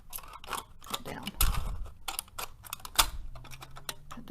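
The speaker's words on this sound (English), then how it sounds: "then you just use your scissors and cut" Scissors snip through an aluminium pop can for yard-art crafting, giving a run of sharp, crisp metallic cuts and crunches at close range, irregular in rhythm with a few louder snaps.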